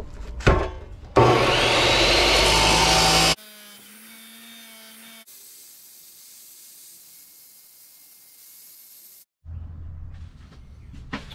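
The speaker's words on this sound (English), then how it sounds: "To the chop saw." A chop saw cuts a metal plate for a Jeep Comanche transfer case build. There is a loud, harsh burst of abrasive cutting for about two seconds, then the blade spins down with a fading whine and the shop goes quiet.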